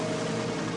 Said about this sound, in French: C'est le bruit d'un hélicoptère!